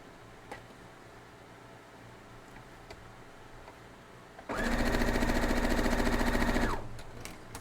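A sewing machine stitching quilt block strips, a quiet room giving way to about two seconds of fast, even, rattling machine stitching close by, then stopping.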